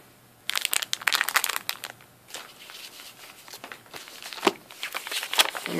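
A Legend of the Five Rings Scorpion Clan Coup booster pack is torn open and handled, with bursts of crinkling foil wrapper, tearing and rustling, loud and close, coming in uneven clusters.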